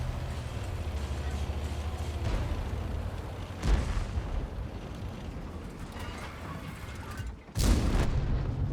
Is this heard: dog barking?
no